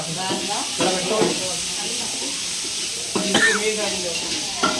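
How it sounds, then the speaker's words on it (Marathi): A spicy tempering sizzles in oil with a steady hiss and stirring, while people talk close by over it. "फोडणी झणझणीत देत आहे ना."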